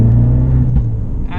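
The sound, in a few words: Abarth 595 Trofeo exhaust bang while accelerating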